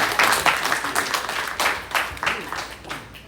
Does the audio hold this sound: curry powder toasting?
no